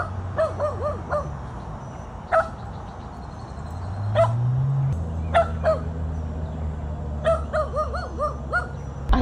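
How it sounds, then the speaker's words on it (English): A small dog barks in short sharp yips at a park, several separate barks spread across the stretch with pauses between, fairly close, over a low rumble of traffic or passing engines. "Love hearing her little bark."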